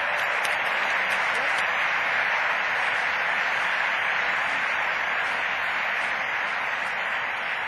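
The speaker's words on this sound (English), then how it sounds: "Round of applause for David Zirin, who's taken his morning to" Audience applause at the 2011 National Science Bowl finals awards ceremony, steady sustained clapping from a large crowd filling the whole stretch at an even level.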